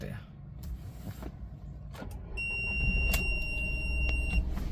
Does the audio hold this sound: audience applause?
no